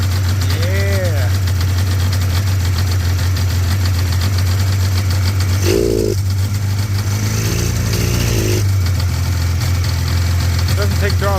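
A snowmobile engine, a 650 or 500 cc Indy yard find, idles steadily as a loud low hum through the whole stretch, with brief voices talking over it.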